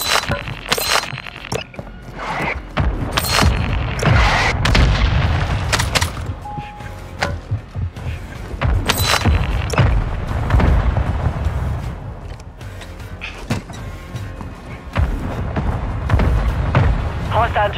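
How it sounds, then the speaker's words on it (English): Mortar strikes in Call of Duty Modern Warfare II land as a string of heavy booming explosions, some sharp and close, others rumbling, spread irregularly through loud battlefield noise. "mortar strike near your position"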